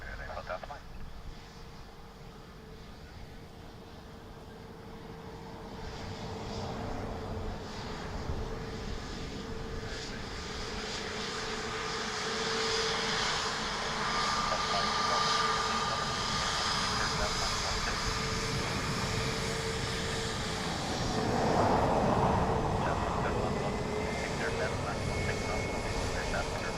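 A Boeing 747 airliner roars steadily at Dublin Airport, its jet engines swelling slowly and staying fairly distant, while radio chatter and a voice talk over the drone.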